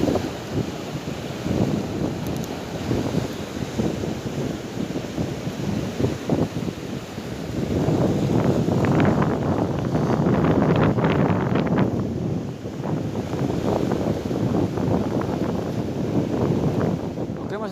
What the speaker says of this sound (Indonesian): karena kondisi anginnya ini kenceng banget bro